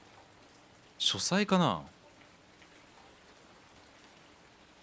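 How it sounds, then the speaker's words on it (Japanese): Steady rain falls outside in the Cthulhu horror game Dagon, a faint, even hiss that runs through the whole stretch while a voice speaks briefly near the start. "雨が降ってるよね。"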